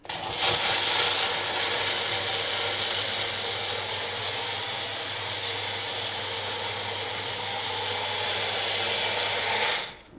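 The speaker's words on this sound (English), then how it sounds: "It's going crazy. I'm just going to keep blending." A blender runs loudly and steadily for about ten seconds, whirring and grinding through Jamaican beef patty ingredients with a constant low hum beneath, then cuts off abruptly at the end.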